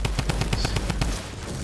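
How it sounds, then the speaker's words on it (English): Fast bursts of machine-gun fire in a video game, loud and close, a rapid regular string of shots that thins out near the end. "Someone's shooting our Heather."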